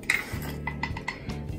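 A utensil stirs and beats eggs with sugar in a bowl as pancake batter is mixed, with quick repeated clinks and scrapes against the sides, close and steady.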